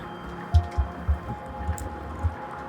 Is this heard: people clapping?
no